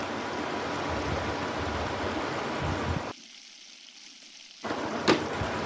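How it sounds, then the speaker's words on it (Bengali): Mutton marinated with turmeric, red chilli powder and ginger-garlic paste fries in a kadai. A steady, rain-like hiss drops to near silence midway, then resumes with a sharp clink, and there is no speech. "এইবার মটনটাকে কড়াইয়ের মধ্যে ছেড়ে দিচ্ছি।"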